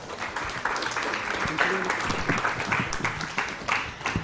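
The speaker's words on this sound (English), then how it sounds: "Let's give a big round of applause to all the teams that participated today." Audience applause at a UC Berkeley startup pitch event, a sustained burst of many hands clapping that fills the room at close range throughout.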